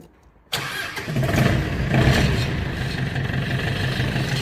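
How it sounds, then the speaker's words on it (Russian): A Mitsubishi MT24D Japanese tractor engine starts after half a second of silence, cranking into a steady, loud, close diesel idle that holds to the end with no talking. "Трактор запускается."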